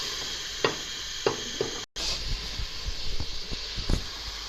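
Masala with tomatoes frying in a pot for daal, a steady close sizzle with a few scraping stirs and clinks.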